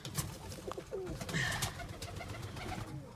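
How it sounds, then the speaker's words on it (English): Soft cooing of tippler pigeons, a few low throaty coos repeating over a rustly, noisy background. "All my young birds, my tipplers."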